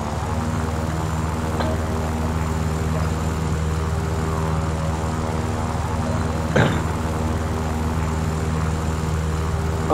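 A propeller aircraft engine drones steadily in War Thunder, a constant close hum throughout with a brief faint blip partway through.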